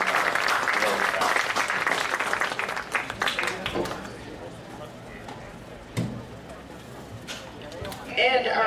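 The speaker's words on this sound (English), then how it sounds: "Let's give these fellas a round of applause." A crowd at a boys' lacrosse East-West All-Star game in Indiana claps loudly for the all-star players, dense applause fading after a few seconds into scattered claps, with a voice over the arena speaker.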